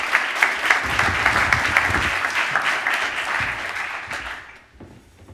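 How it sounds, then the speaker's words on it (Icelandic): An audience at a public presentation meeting on housing development claps loudly and steadily for about four seconds, then the applause fades out. "Við skulum bara klappa fyrir henni."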